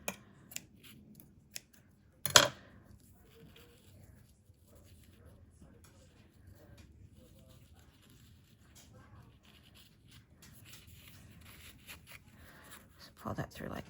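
Scissors cut paper for a vintage junk journal, with a few sharp close snips and crisp rustling amid quiet handling noises, while a voice talks faintly in the background.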